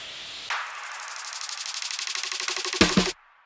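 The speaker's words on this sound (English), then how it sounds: "then I added just some normal risers" A synthesized noise riser for a dark liquid drum and bass track swells for about two and a half seconds, a bright hissing wash with a fast pulsing flutter that builds to a brief burst, then cuts off abruptly.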